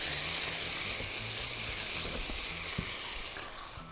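Chicken sizzles in a frying pan, nearly done, while being cooked for a Mexican quesadilla. A steady, dense crackle and hiss continues throughout at moderate volume, with a few faint clicks and no voices.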